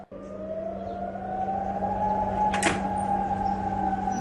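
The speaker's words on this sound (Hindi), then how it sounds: "ये दरअसल खतरे का सायरन है" A warning siren wails during an Iranian drone and missile attack in Qatar, a sustained rising tone sounding fairly distant, with a brief sharp noise from something nearby partway through.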